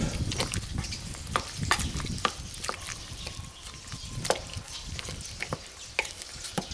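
Creton meat being broken up and stirred in a slow cooker, with a spoon making repeated wet scraping, clicking and squelching strokes at an irregular rhythm, close and fairly quiet.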